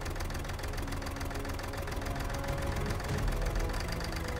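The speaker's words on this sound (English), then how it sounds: "The 250 kilowatts diesel generator starts up smoothly in the freezing cold weather." A 250 kW diesel generator driven by an LS Chalmers six-cylinder engine coupled to an Onan generator, running in freezing cold weather, gives a steady, loud, close-up knocking engine drone throughout with no talk.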